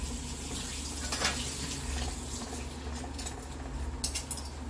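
Used cooking utensils are washed under running water in an indoor kitchen. The water hisses steadily at a moderate level, with a few soft clinks of metal and dishes and a low hum underneath.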